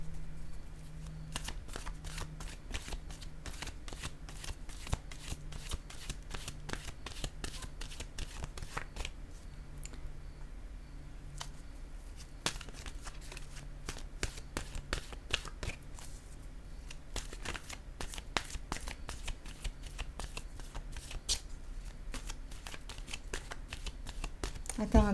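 A deck of cards is shuffled for a new draw, with many quick crisp riffles and snaps repeating steadily at low volume over a faint background hum.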